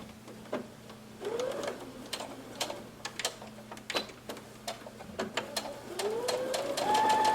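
A sewing machine stitching a quilt block, rapid mechanical ticking with the motor whirring up in short rising runs, close and moderately loud, with the pace picking up toward the end.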